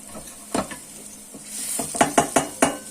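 Vegetables lightly frying with garlic in a small knob of butter, a soft sizzle broken by several sharp spatula scrapes and taps against the pan, clustered toward the end.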